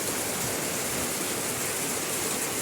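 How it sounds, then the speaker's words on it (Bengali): Heavy rain pours down steadily in a dense, even hiss near the Jamuna river, loud and unbroken throughout with no voices. "একদিকে আকাশ থেকে বৃষ্টি হচ্ছে, আর একদিকে যমুনা নদীর পানি তীব্রভাবে বৃদ্ধি পাচ্ছে।"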